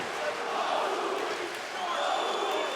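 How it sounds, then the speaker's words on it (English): A crowd at a PFL MMA fight cheers and yells to urge on a fighter, a steady broad roar of many voices swelling at the start and again near the end, fairly loud and continuous. "Crowd are trying to get Barnaoui going here, trying to encourage him"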